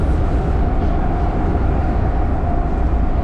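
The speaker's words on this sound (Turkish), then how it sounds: "Metroya bindik. Gidiyoruz." A loud, continuous rumble and rattle fills the inside of a moving Prague metro train, steady throughout with no talking.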